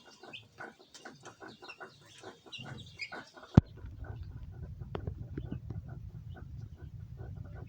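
Ten-day-old chicks in a box peep and chirp in a quick, busy stream at close range, then after a sharp knock a lower, duller rustling and scattered calls follow.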